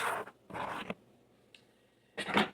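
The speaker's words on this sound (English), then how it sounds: "Clip the corners, snip, snip, snip, snip." Scissors snip through the corners of fabric for a quilted mug mat, a few separate close, crisp cutting strokes with short silences between them and no talking.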